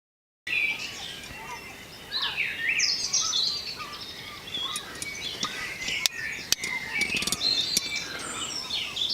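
Many birds chirp and sing at dawn around five o'clock in a garden during an overnight camp, a busy layered chorus of near and distant calls with a few sharp clicks.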